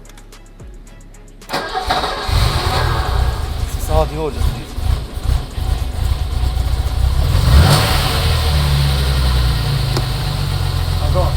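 A BMW Alpina engine cranks and catches after a quiet moment, then runs with rising and falling revs in a strong, close rumble while people talk over it.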